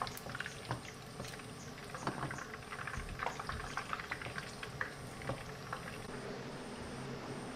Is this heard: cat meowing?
no